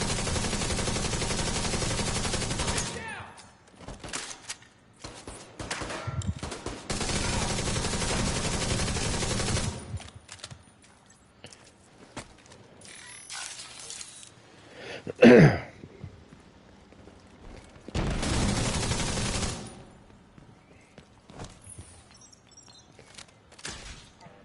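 Assault rifle in The Division 2 on PS5, firing in long, loud sustained automatic bursts separated by short pauses, up close, with one sharp bang in the quieter middle stretch.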